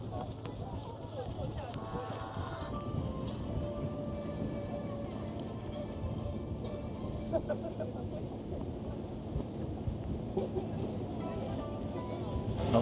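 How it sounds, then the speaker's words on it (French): Light rain patters steadily near Mount Fuji, a soft, even hiss heard outdoors with faint background noise and no clear talk. "Il a commencé un petit peu à pleuvoir."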